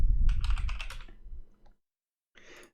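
A burst of quick keystrokes on a computer keyboard as a search is typed into YouTube. The typing is close and crisp and fades out, then after a brief pause a short second flurry of keys follows.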